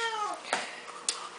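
An 8-year-old purebred wedge-head Siamese female gives a drawn-out, falling meow close by, followed by a couple of short, sharper calls within about a second.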